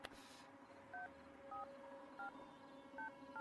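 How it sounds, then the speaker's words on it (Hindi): A telephone being dialed in a Hindi-dubbed action film scene: about six short, clean keypad tones spaced at a steady pace, faint against a quiet background. "यार तू फोन लगाएगा ठीक है प्लीज।"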